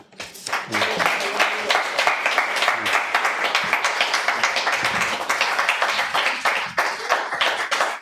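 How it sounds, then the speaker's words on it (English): Audience clapping after a poetry reading by Zack Rogow, Lynne Thompson and Michelle Bitting, starting quickly and holding as a close, crisp, steady patter of many hands. "Some more applause for Zack, as well as Michelle and Lynne."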